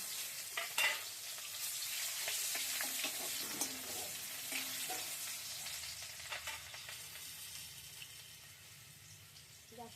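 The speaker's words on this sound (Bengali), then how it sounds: "এবার তেজপাতাটা দিলাম একটু কুচনো পেঁয়াজ দিলাম" Bay leaf and chopped onion sizzle in hot oil for a prawn malai curry, a broad steady hiss with a few clinks and stirs early on, slowly fading and growing quieter toward the end.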